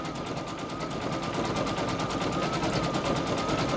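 An embroidery machine stitching a satin stitch on a T-shirt, a steady fast rhythmic chatter with a constant hum, continuous and even, no talk.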